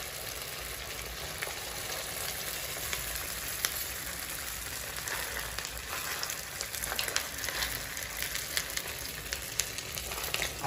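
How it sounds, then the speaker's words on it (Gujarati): Semolina cheese balls deep frying in hot oil over a high flame, a continuous soft crackling sizzle with scattered pops, fairly quiet and steady for the whole stretch. "આવી રીતના આપણે બીજા બોલ્સ તળી લઈશું"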